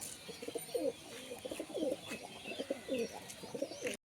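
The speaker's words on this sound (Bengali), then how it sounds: "পায়রাগুলো খুব ছটফটে, দারুণ স্ট্যান্ডিং, দারুণ কোয়ালিটি" Pigeons coo in a steady run of low, throaty rolling calls, fairly close and continuous, with a few faint chirps behind them.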